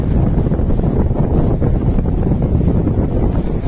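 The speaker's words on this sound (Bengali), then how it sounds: "অনেক জোরে বৃষ্টি হচ্ছে, বাতাস হচ্ছে।" A heavy rainstorm with strong gusting wind lashes an office yard near date palms, a loud unbroken roar of wind buffeting the microphone over pouring rain, with no voices.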